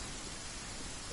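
Rain falls steadily in Genshin Impact, a soft, even hiss of drops at low volume with no other sounds.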